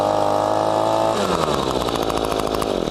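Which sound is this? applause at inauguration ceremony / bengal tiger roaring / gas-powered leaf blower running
gas-powered leaf blower running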